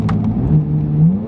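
A 2023 Corvette Z06 blips its engine through quick downshifts, a loud, close, rising-and-falling rev that carries on steadily for about a second and a half.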